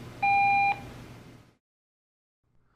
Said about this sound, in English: At the tone, leave me a message.